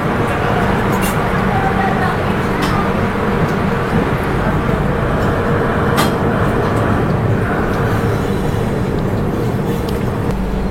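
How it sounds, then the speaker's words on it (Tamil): An Indian Railways train on the Thiruvananthapuram to Delhi run, heard from a first class coupe just after leaving Thrissur, rumbles steadily with a constant low roar and occasional rail clicks, heard from inside. "तो त्रिशूर से अभी निकल गया है ट्रेन."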